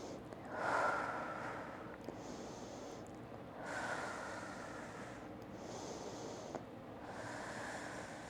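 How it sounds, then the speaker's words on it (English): Slow, deep breathing during a hip stretch: three long, soft inhale-exhale cycles, close and fairly quiet, each breath rushing and airy, with no talking. "Deep breaths."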